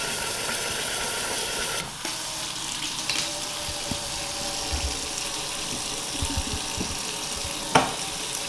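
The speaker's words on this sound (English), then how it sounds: "I'm going to fill the pot with water until I just barely cover" Tap water runs steadily into a pot of roasted turkey pieces for broth, a continuous close hiss and splash with a small clatter near the end.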